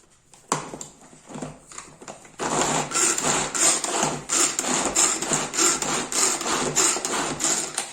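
Repeated string pulls on a Turbo-Top manual food chopper mincing ingredients for chili con carne, a quick run of rhythmic whirring, rasping strokes after a few softer preliminary taps, close and fairly loud with no talk.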